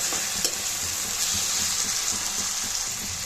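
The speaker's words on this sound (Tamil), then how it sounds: "ரெண்டு பெரிய சைஸ் தக்காளி இதில் சேர்த்துக்கலாம் சேர்த்துட்டு நல்லா வதக்கி விட்டுக்கலாம்" Onions and two large tomatoes sautéing for pepper chicken, making a dense, continuous sizzle with soft, regular stirring scrapes throughout.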